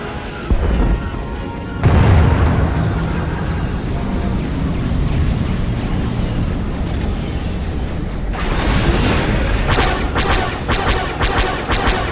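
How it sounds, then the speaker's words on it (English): In a Star Wars: The Old Republic space battle, enemy ships open cannon fire in a heavy barrage: loud booming blasts and crashes layered over a continuous rumble, then sharp rapid bursts near the end. "Enemy ships are opening fire."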